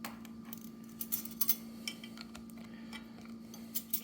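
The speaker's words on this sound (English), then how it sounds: "And then we're gonna stir with the knife that we have there." A knife stirs scented orange blossom wax in a container. Faint, irregular clinks and light scrapes come close up in a quiet room, with no talking.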